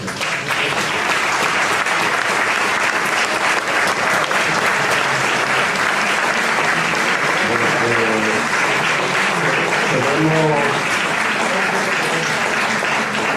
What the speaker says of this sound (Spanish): Muy bien dicho, un aplauso